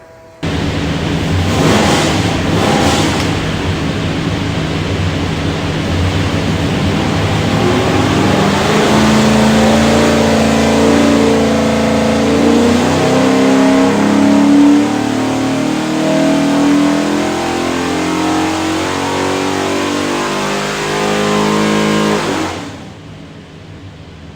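A 430-horsepower 347 Ford stroker V8 with a custom-grind hydraulic roller cam and front-sump oil pan, built for a 1969 Mercury Cougar, roars loudly on a dyno as it revs up through a sustained full-throttle pull, then cuts off abruptly.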